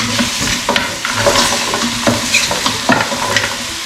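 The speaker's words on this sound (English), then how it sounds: "we're going to get a spoon and give it a stir" Chicken being stirred in a frying pan with a spoon, giving repeated scraping strokes over a steady sizzle, fairly loud and close, with no talking.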